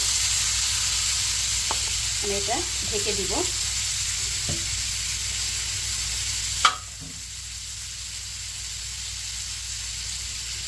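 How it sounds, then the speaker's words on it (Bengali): Marinated dried bamboo-leaf fish frying in a hot wok, a steady hiss with several scraping stirs early on, then a sharp clatter as a lid goes on and the sizzle drops to a muffled hush; a brief spoken line comes in partway. "এখন আমি কড়াইটা গরম করে সেই মাখানো শুটকিটি কড়াইতে দিয়ে দিব।"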